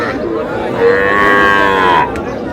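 A single drawn-out moo from a young bull calf at a cattle market, loud and close, lasting about a second over faint background bustle.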